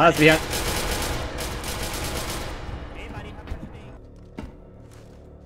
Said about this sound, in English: There are gunshots over here, but I don't see anyone.